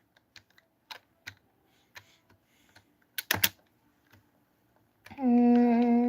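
Scattered computer keyboard keystrokes tap irregularly during a live game stream, then a brief burst of louder clacks, followed by a sustained tonal hum that cuts in near the end.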